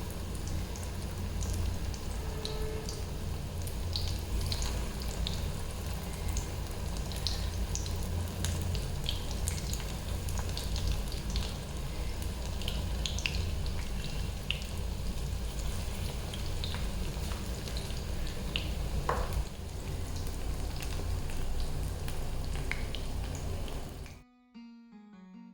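Bengali-style boras, battered fritters, frying in hot oil, giving a steady dense crackle and sizzle with scattered pops that runs close and even for about twenty-four seconds, then cuts off abruptly into a brief low tone.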